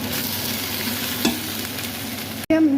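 Canned tomato sauce fries in oil in a pan with a steady, close hiss, broken near the end by a brief pause and a sharper burst of sizzling.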